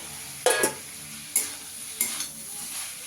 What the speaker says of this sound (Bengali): এবার আলুটা দিয়ে দেবো, আলু আর চিংড়ি মাছটা দিয়ে দেবো।